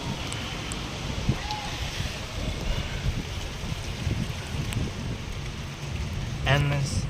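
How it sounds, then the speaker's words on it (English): Wind and rain outdoors beside water, cold weather with gusts rumbling and buffeting the microphone over a steady hiss of falling rain, and a brief voice-like sound near the end. "the wind is coming towards me with all the rain falling on me"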